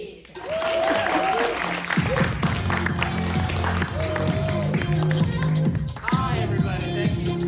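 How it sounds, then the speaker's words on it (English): An audience at an improv comedy show applauds the Table Read troupe with sustained clapping that stays loud across the stretch, with cheers, whoops and some music or stage sounds mixed underneath. "please give a warm round of applause for Table Read"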